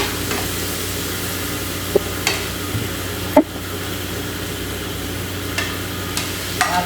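Shrimp sautéed and stirred in a pan while cooking vegetables, a steady low sizzle with a few sharp clinks and scrapes of a utensil against the pan, close and without talk.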